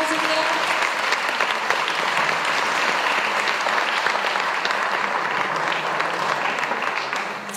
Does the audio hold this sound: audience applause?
yes